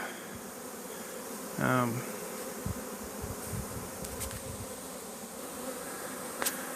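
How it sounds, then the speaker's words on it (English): Honeybee swarm of drones and workers being hived, a steady dense buzz filling the background throughout, with a brief spoken word early on. "Quite a few drones, good amount of worker bees."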